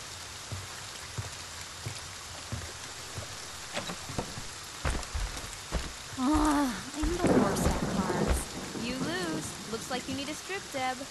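Steady rain patters in the PS4 video game Friday the 13th, a constant wash of raindrops beneath characters talking and calling out.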